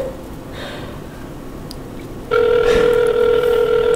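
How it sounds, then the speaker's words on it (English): A telephone ringback tone for an outgoing call starts partway through and sounds as one steady, loud electronic tone over faint room noise, with no talking. "Okay, we're calling Molly."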